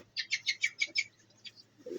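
Pigeons in a loft give a quick series of about six bright chirping calls, then a few fainter, scattered ones, close and alone with no talk.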